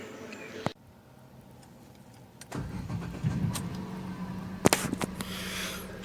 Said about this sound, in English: So let's park the car back in its place slightly.